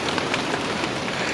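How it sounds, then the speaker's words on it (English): Heavy rain falls in the Suriname rainforest as a dense, continuous hiss of drops beating on leaves and ground, close and steady for the whole moment. "But as the rain gathered force"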